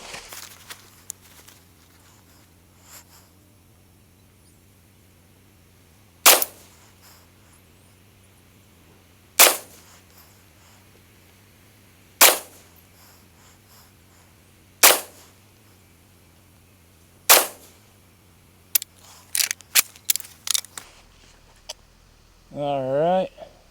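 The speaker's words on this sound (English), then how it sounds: "enough yapping, more shooting." A rifle fires Tula Cartridge Works ammunition. Sharp single gunshots ring out at spaced intervals, then come in a quicker cluster near the end against a quiet background.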